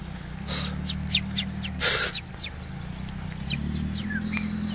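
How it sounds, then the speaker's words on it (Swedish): Short, bright bird chirps repeat against a low mechanical hum from a BMW 318is, some close and some fainter. "Fågel!"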